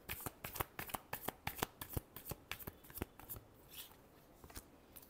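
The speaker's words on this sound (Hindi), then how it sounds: "Last shuffle." Tarot cards being shuffled in a rapid run of crisp riffling bursts, close and fairly quiet, with a short pause before a few final flicks and no voices over them.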